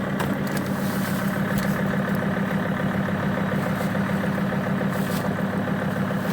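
Mercedes Sprinter van engine running at a steady idle right after starting, a continuous low rumble with even mechanical chatter, close and moderately loud, with no talking over it.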